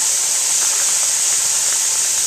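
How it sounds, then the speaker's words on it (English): Steam venting strongly and steadily from a pressure canner used for canning chili, a loud, constant, close hiss with no breaks and no talk. "Steam is venting really strong and steady."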